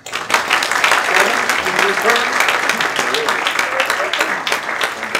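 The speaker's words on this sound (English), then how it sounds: "Can I have a round of applause for these 2 fine physicians?" A gala crowd at a Chabad tenth-anniversary event gives a round of applause for two physicians, loud sustained clapping from many people with voices and cheers rising through it.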